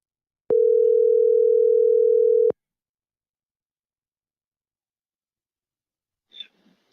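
A steady telephone dial tone sounds clearly for about two seconds before cutting off, followed by silence and a faint brief rustle near the end.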